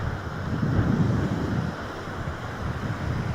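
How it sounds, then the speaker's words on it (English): Storm surf rolling onto Lido Beach, a steady roar of breaking ocean waves mixed with buffeting wind noise on the microphone, loud and continuous with no speech. "so here's some waves"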